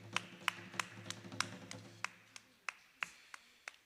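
Congregation clapping in acclamation during a French-language Sunday church worship service, a steady series of about eleven sharp, evenly spaced claps over a low sustained hum, moderately quiet and slightly distant.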